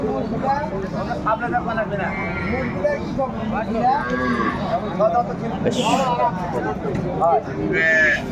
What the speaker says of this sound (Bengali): সুন্দর গাভী বাছুর কোয়ালিটি সম্পন্ন